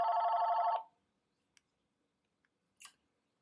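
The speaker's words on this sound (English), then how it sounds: "Okay, so as the phone rings as always" Telephone rings in a trading office, one bright electronic trill lasting under a second, followed by near silence with a few faint ticks and a brief click.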